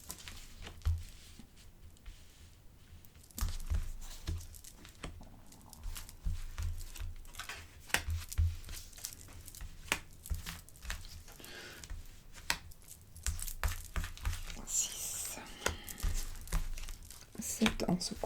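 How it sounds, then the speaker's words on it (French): A deck of tarot cards is shuffled by hand for a reading, a long run of soft riffling, slapping and crinkling close by, with a voice talking at times. "je remélange parce que je n'ai pas envie de savoir"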